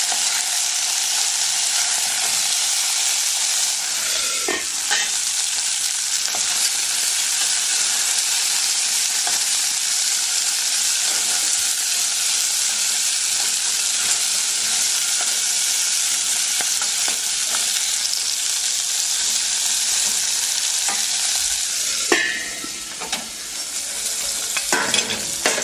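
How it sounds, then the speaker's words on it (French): Food frying in a pan, with a loud, steady, close hiss of sizzling oil throughout and occasional scrapes and clinks as it is stirred. "Remuer de temps en temps."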